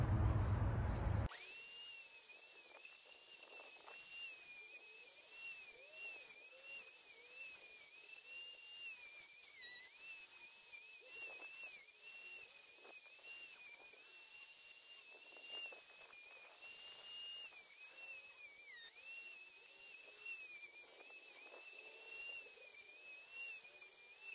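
Chicago Electric router from Harbor Freight cutting deep in one pass, starting with a burst of noise and then a sustained high-pitched whine that wavers as the bit bites under load, continuous with no talking.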